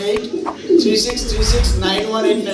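Pigeons coo in low, throaty murmurs, several fancy pigeons in pairs overlapping close by, with scattered wing flutters and faint chirps in the background.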